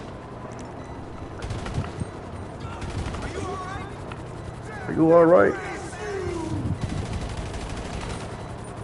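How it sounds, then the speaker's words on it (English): Gunfire in GTA Online mixes with a game vehicle and other in-game noise, muffled shots and mechanical sounds running underneath a player's talk, swelling into a louder burst midway. "I'm getting shot at"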